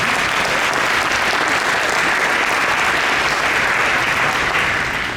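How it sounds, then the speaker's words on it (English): Audience applause fills a room at a business economic forecast luncheon, a dense, steady, loud clapping from many hands that holds evenly and starts to taper at the very end. "We can give a round of applause for them."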